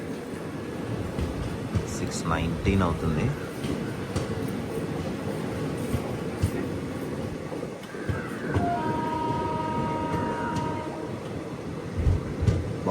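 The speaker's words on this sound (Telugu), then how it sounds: "మళ్ళీ కైకలూరు దగ్గర నుంచి కూడా స్టార్ట్ అయిపోయింది మన ట్రైన్" The Machilipatnam Express passenger train runs out of Kaikaluru with a steady rumble and clatter of wheels on track, and a sustained horn sounds partway through; a voice speaks briefly over the noise.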